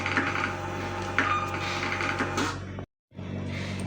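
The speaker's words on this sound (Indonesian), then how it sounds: "Kita print ya pakai X printer." X printer thermal printer printing shipping labels in a warehouse, a steady whirring feed lasting nearly three seconds, a brief stop, then printing resuming.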